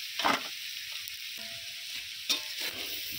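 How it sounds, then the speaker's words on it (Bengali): Dalia and moong dal frying with vegetables in a pan, a steady close sizzle with two sharp stirring scrapes, no voices. "সবজির সঙ্গে ডালিয়া আর মুগের ডালটা 2 মিনিটের মতো ভেজে নেব।"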